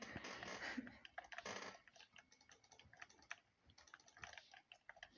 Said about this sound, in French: Désolé pour les bruits de clavier et de manette.